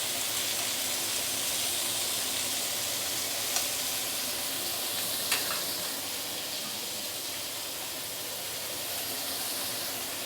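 Soy sauce prawns charring in a hot pan give off a steady, hissing sizzle that holds level throughout, with a couple of brief clinks partway through and no talking.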